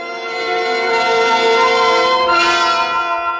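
A bell rings to summon a waiter in a radio drama, one bright sustained ring with rich overtones that swells briefly midway and lingers for several seconds, close and clear with no voices.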